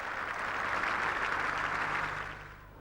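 Cricket spectators at The Oval in London during an England versus Sri Lanka Test match break into a burst of steady applause, a loud sustained patter of clapping that fades out toward the end.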